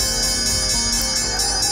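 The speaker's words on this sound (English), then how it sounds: "The closing bell on Wall Street yesterday" Wall Street's closing bell rings continuously and loudly for under two seconds, a bright sustained metallic tone with a dense wash of overtones and no voices over it.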